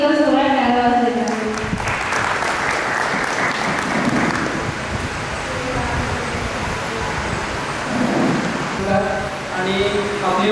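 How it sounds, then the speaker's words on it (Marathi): At a retirement ceremony for an agriculture officer, an audience breaks into loud, sustained applause that swells for several seconds, with a speaker's voice heard just before and as the clapping fades. "त्यांच्यासाठी एक जोरात टाळ्या वाजवायच्या."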